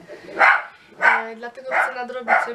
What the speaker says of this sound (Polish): Kurczę, psy muszą szczekać.